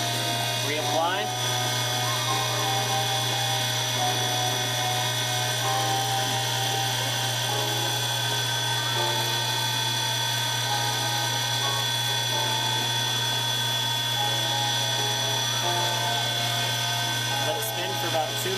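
A pen lathe spins a finished pen blank with a steady, constant motor whine and hum, close and unbroken throughout.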